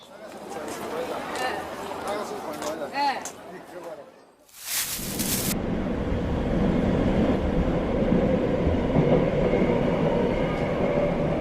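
A Los Angeles Metro train sits at a station: a voice speaks over a low rumble at first, a sharp hissing burst cuts in briefly, then a steady, fairly loud rolling drone carries on to the end.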